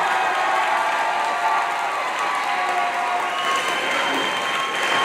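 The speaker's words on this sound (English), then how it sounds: "Another big round of applause for all of our graduates here this evening." Sustained audience applause with some cheering for graduates of the class of 2022 at Horizon Science Academy Toledo, a steady, dense wash of clapping filling the whole stretch at an evening ceremony.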